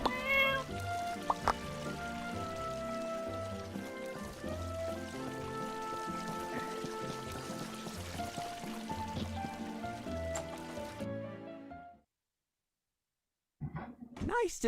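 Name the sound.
cat meowing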